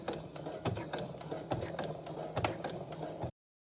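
A malfunctioning sewing machine runs with irregular clacking and knocking, a rapid mechanical rattle with sharp ticks, then cuts off abruptly.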